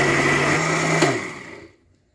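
An electric blender grinding mint and pomegranate seed chutney, a loud steady whir that is switched off and winds down to silence.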